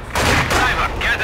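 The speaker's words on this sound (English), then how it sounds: "we're taking fire!" Rapid bursts of rifle and machine-gun fire crackle close together in a Company of Heroes 2 battle in the Stalingrad aftermath, with voices under the shooting.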